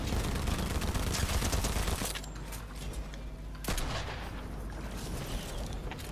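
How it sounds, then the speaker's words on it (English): Fortnite gunfire crackles in a dense, loud flurry of rapid shots and booming impacts, then drops back to a steadier, rumbling barrage with one sharp burst midway. "Oh, I'm being shot at."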